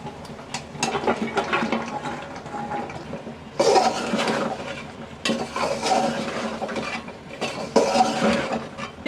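Flat beans are tipped into a sizzling masala in a pan and stirred, making bursts of loud scraping and clattering against the pan over a steady fry, with no voices.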